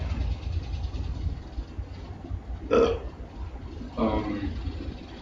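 Two short, deep burps close to the microphone, the first louder than the second, over a low rumbling background with no talk.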